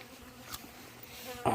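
Native Korean Asian honeybees buzz faintly after being disturbed at the hive, a soft rustling drone with a brief louder surge at the end.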